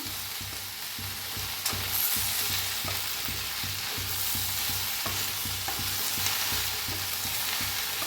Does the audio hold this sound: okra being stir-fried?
yes